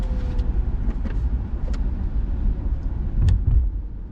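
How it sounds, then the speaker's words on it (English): A Karma Revero electric car accelerates in stealth mode, heard from inside as a steady low road and motor rumble with a few faint clicks and no talking. "And I just gave this thing some gas, and it is just really touchy on the gas."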